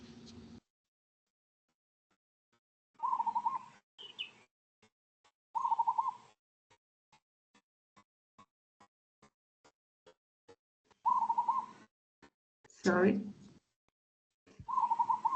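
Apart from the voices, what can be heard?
bird calling, unusual tropical-sounding bird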